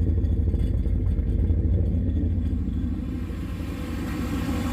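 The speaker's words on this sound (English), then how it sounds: "So it's got a pretty good exhaust note actually," A boosted LS 6.0 V8 car engine idles in a garage with a deep, steady exhaust rumble and a fast low pulse, loud and close, with no talking.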